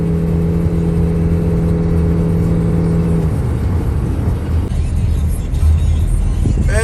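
A car driven fast toward the airport gives a loud, steady engine drone with a humming tone that drops away midway, then rough road noise and whir continue up close.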